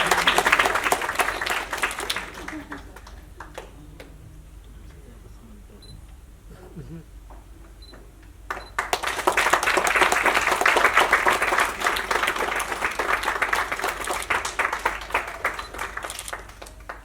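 Audience applause at a 70th foundation-day arts programme in Shimla, with clapping at the start that fades, then a second sustained burst of dense, steady applause in the hall carrying on to the end.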